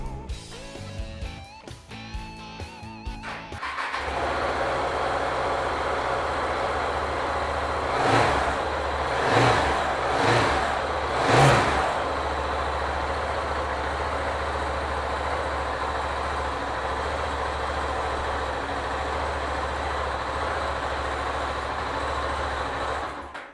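A 2012 KTM 690 Duke motorcycle clicks and cranks, then catches and settles into a steady idle. Its single engine is revved briefly about four times before it returns to a rumbling idle, close and alone.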